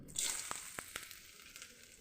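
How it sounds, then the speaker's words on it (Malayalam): Grated coconut fries in ghee for unniyappam, giving a steady soft sizzle with a few sharp crackles and pops near the start, heard alone and fairly quiet. "നെയ്യിൽ തേങ്ങ വറുക്കണം"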